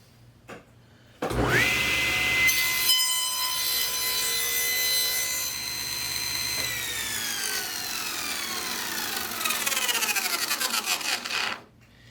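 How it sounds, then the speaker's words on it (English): Saw cutting through wood on a flipped crosscut sled: a loud whine starts abruptly, holds as a steady high-pitched cut for about ten seconds, roughens near the end, then stops sharply. "If I were to flip the sled and make a cut"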